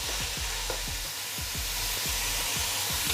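Onions sautéing in a pan while cooking chicken dum biryani give a steady, close frying sizzle, with a stirring spoon scraping the pan in a fairly regular rhythm throughout.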